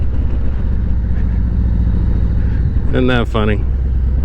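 Honda Goldwing motorcycle riding through a neighborhood, its steady engine drone and road rumble continuous throughout, with a brief spoken remark near the end.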